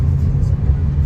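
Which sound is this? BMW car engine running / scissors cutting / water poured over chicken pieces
BMW car engine running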